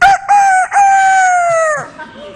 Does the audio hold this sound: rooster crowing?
yes